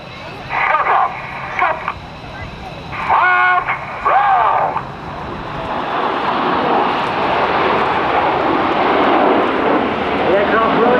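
Red Arrows jet aircraft rolling overhead at an air show make a loud, sustained roar that builds into a broad continuous rush, while a commentator talks over the first half.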